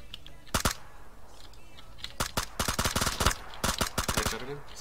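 Gunfire in a battle royale video game: several sharp single shots, then dense bursts of rapid shots in clusters, loud and close, over a steady low background.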